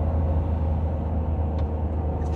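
A Ferrari 599 GTB Fiorano moves along slowly, its engine a steady low rumble heard from close by. The drone stays even and uninterrupted, with no talking.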